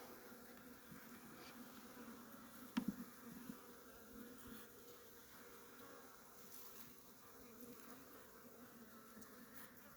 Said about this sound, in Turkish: Salkımı çözmüş arı.